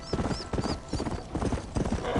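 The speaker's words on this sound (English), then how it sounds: "Like how fast the horses go." Horse hooves galloping in Red Dead Redemption, a quick, steady clip-clop rhythm of repeated hoofbeats, fairly loud and close, with faint whinny-like squeals at times.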